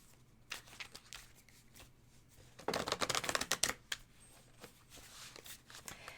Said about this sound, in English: I am going to shuffle them a little more just to make sure.